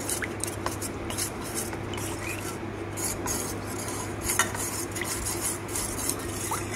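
Milk with about two spoonfuls of cornflour stirred for mango pudding, a steady scraping, clinking swirl of spoon against pot running continuously and close, with no talking.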